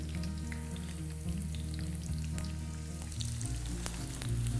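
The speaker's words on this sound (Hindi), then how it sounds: "ये अनियन को नरम करना है तेल में, ब्राउन नहीं करना, नरम करना है।" Chopped onions softening in hot oil in a pan give a steady, even frying sizzle that runs without a break, with a low hum from the kitchen underneath and no talk.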